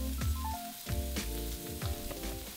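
Onions sizzle and fry in a pan with salt, a steady crackling hiss with periodic bursts as the pan is stirred, close and fairly loud, with no talking.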